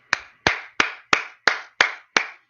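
Seven crisp, evenly spaced claps from a clapping sound effect played during a live stream, each a sharp slap with a quick decay, clean and isolated.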